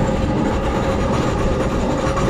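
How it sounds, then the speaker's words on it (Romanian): A water mill in a Romanian village of mills begins grinding grain into cornmeal, producing a loud, dense, steady rumble and rattling churn with faint rhythmic knocking, continuous and close. "exact acum a dat drumul la moare, am văzut"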